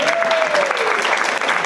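An audience claps for the mayor at an International Women's Day event in Tower Hamlets, a dense, steady burst of applause from a crowd, with a voice speaking over it.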